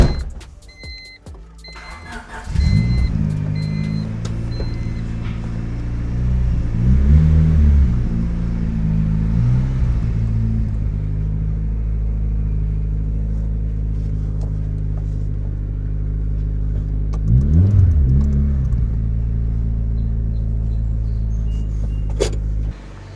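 A Honda Civic on new coilovers pulls out and drives off, a steady engine rumble building with a couple of revs, with a faint whir like a power window near the end; no one talks.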